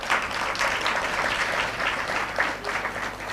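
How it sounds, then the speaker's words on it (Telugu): A devotional discourse audience on the Shiva–Parvati wedding claps together in sustained, fairly close applause with uneven surges, and no voices rise above the clapping. "కొంచెం ఆదర్శంగా చప్పట్లు ఆడవాళ్ళు కొడుతున్నారు కానీ మగవాళ్ళు కొట్టరే, కొంచెం అందరూ కొట్టండి మరి"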